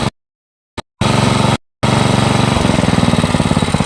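An Aakash 7.5 hp water pump engine fires up after brief silent gaps, then runs loud and close with a fast, steady mechanical chugging that holds through to the end.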